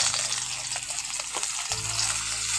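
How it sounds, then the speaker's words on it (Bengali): Chopped onion goes into hot oil already spiced with nigella and fennel seeds, setting off a bright, continuous sizzle with a few clatters of stirring, under a low steady background hum. "এখন ফোড়নটা ভাজা হয়ে গেছে, ওর মধ্যে দিয়ে দিচ্ছি পেঁয়াজ কুচি।"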